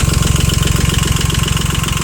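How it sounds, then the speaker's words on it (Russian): The three-cylinder engine of a used Japanese mini tractor idles evenly up close, a loud, steady chugging pulse with a rapid regular beat. "трехцилиндровый двигатель"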